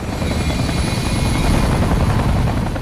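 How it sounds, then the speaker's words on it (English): A loud aircraft roar mixes a high turbine whine with a dense, rapid rotor chop, sustained and close for the whole stretch. "having a very strong turbine component and then the rotor chop"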